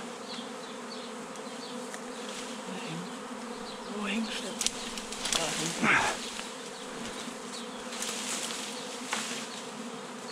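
A honey bee swarm in a tree buzzes continuously in a dense drone, with individual bees passing close by; a person briefly speaks over the humming.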